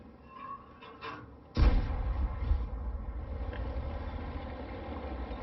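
A tank cannon in World of Tanks fires a single loud, booming shot, its blast rolling into a sustained low engine rumble that carries on for several seconds afterward, with faint sounds scattered before the shot.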